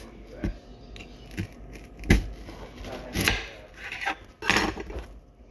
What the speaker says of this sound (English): Then cut the onion in half.